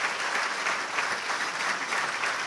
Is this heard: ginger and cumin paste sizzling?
no